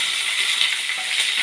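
Brinjal dropped into hot oil with cumin and mustard seeds, giving a bright, steady hiss and sizzle that stays close and fairly loud for its whole length, with no talk over it.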